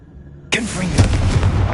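The Confringo blasting spell in Hogwarts Legacy fires with a sudden loud boom after a brief quiet moment, followed by a rolling, crackling explosive rumble.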